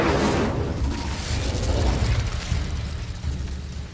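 Incendio fire spell cast in Hogwarts Legacy, a loud whooshing burst of flame that rumbles and fades out over a few seconds.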